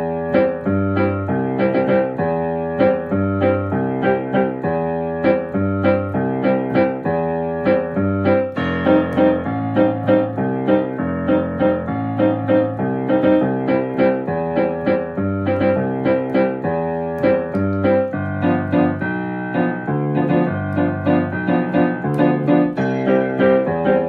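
New Orleans rhumba groove on piano, with a rolling left-hand bass line and short chord pops between the notes, played steadily, loud and alone.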